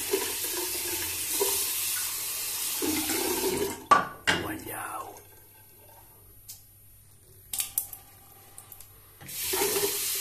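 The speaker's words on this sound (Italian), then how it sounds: "Risciacquo un po' il pennello perché ho visto l'acqua un po' bianca, biancastra." Running water pours from a tap as a Shavemac 173 silvertip shaving brush is rinsed, a steady hiss that stops abruptly midway. Scattered clicks and handling knocks follow, then the water runs again at the end.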